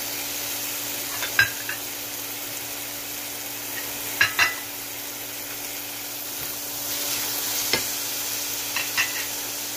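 Cajun-seasoned ground pork being stir-fried in a pan, a soft steady sizzle under a few distinct scraping stirs of the spatula spaced a couple of seconds apart, no voices.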